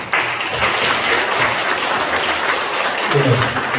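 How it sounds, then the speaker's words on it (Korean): Church congregation claps to welcome two guests standing up during a Sunday worship service, a steady, even wash of many hands throughout, fairly loud and close, with a brief low murmur of voices near the end. "잠깐 두 분이 일어나시면 좀 박수로 좀 이렇게 환영하는"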